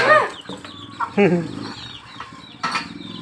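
Chickens cluck in short bursts close by during an outdoor Easter egg hunt, with people talking over and between the calls.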